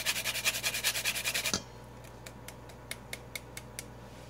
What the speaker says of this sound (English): as you go across your grater, it's breaking down the nutmeg for you.